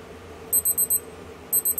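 A Casio B640WD digital watch timer runs out and sounds its alarm: two bursts of four sharp, high electronic beeps in a quick even rhythm, close and clear over a faint hum.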